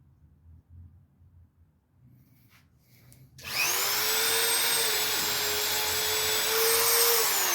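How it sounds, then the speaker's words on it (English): A Dremel rotary tool with a worn brush attachment that no longer grips, used while restoring a Carvin DC135 guitar, starts after a quiet stretch with a loud, steady high-pitched whine that holds to the end, with no talk. "Looks like a little brush on my Dremel's not gripping anymore"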